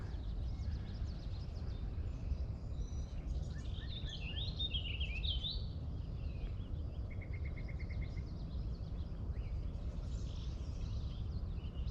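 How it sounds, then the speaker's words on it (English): Birds sing outdoors in a quiet place, with scattered faint warbles and a brief trilled call over a low, steady background rumble. "Just kind of cool to listen to all the birds singing."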